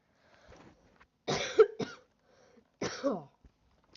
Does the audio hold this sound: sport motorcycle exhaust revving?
no